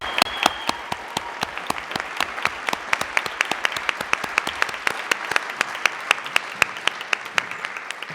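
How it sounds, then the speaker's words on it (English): Applause at a town council meeting honoring young state baseball champions from the 13-year-old division, a steady round of many hands clapping indoors, moderately loud and continuous. "Let's have a round of applause for the young men."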